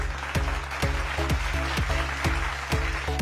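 A church congregation at a worship service claps in steady rhythm, the claps landing on a regular beat over loud, continuous music.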